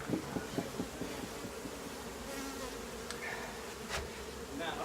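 Bees from a wild beehive being removed, a loaded hive behind drywall, make a dense, constant buzzing swarm close by, with a few faint taps and scrapes mixed in.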